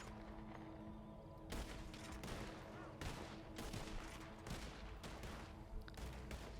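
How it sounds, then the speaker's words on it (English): Rifle gunfire in the WildRP video game, a Red Dead–style western setting: a rapid volley of loud, close shots in bursts, with a steady background bed of game ambience between them. "God, my rifle is so dirty, man. You can hear it."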